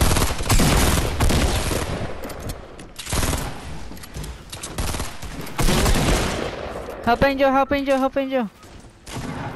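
Rapid bursts of gunfire and heavy fusillades in a multiplayer shooter video game, loud and close, with players talking over the shots and a final stuttering burst near the end.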